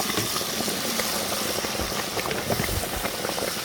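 Browned onion and added condiments sizzling and simmering in a pan, a dense, steady crackling hiss with bubbling pops, loud and close, no voices.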